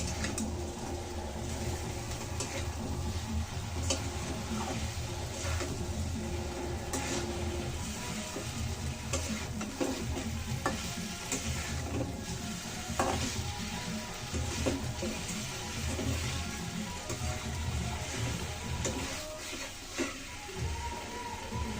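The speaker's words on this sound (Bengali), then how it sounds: "মাছের সাথে একটু হালকাভাবে কষিয়ে আমি জল দিয়ে দেবো" Tengra fish with potato and spices sautéing in a pan, a steady close sizzle and frying hiss with stirring scrapes throughout, no talk.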